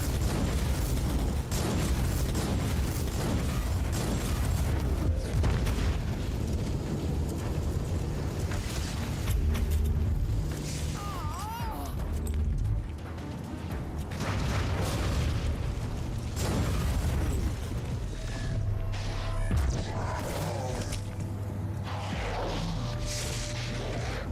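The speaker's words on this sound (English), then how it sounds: "run by, and explode a bunch of barrels" Barrels blowing up in the video game Warhammer 40K: Inquisitor - Martyr, a dense run of loud booming explosions and crashing debris that overlap and rumble steadily throughout, with game music and effects underneath.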